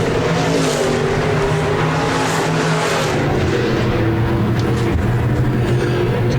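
Stock cars race nose to tail around the Park Jefferson Speedway oval on the final lap, their engines roaring loud and continuous with rising and falling pitch as the pack sweeps through the turns.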